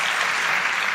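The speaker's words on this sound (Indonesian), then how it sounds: "Let's give them a good hand." A short, thick wash of applause from a youth church service congregation, loud and continuous with no break and no talking.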